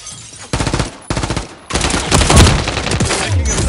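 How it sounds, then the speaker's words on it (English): Rapid video game gunfire, dense automatic bursts that start and stop in loud, close volleys with short gaps between, and no voices over the shooting. "Taking effective fire"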